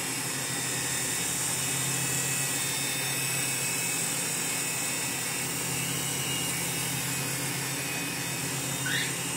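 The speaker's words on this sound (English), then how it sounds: "helicopter flight is great" A Blade Scout CX RC helicopter hovers indoors, its rotor and motor giving a steady, high, whirring buzz that stays close and constant the whole time, with no voices.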